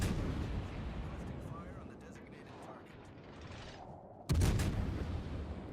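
Naval gunfire from a ship battle in World of Warships, with a deep rumbling boom and mechanical clatter, followed by a sudden loud salvo near the end.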